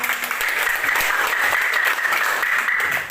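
Students clapping together in a classroom, a steady, dense burst of applause that fills the room at an even level for a few seconds, with no speech over it.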